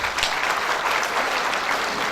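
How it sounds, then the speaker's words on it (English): Steady, dense applause from a seated audience at a university convocation ceremony where degrees are being awarded, filling the whole stretch at an even, sustained level with no speech over it. "Give a round of applause to all of them who are standing here."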